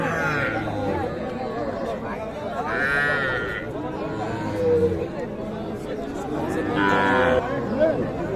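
Young bull calves low and moo repeatedly at a busy cattle market, several drawn-out calls close by under constant crowd chatter and voices bargaining.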